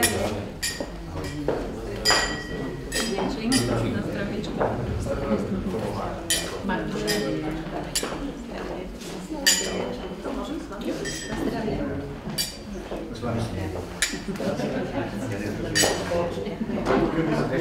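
Glasses clink repeatedly in bright, scattered chimes during a celebratory toast at a gathering of jubilees, mixed with crowd chatter and voices throughout.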